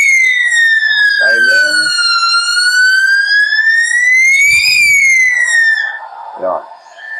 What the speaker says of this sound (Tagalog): gumana din yung pinaka-sound niya, yung alarm niya